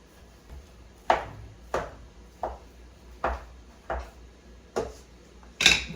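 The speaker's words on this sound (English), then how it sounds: "once I've incorporated this meat, I'm going to mix it thoroughly" Ground meat being worked together with onions in a pan, heard as a series of about eight distinct close scraping knocks of a utensil spaced roughly every half second, with no talk.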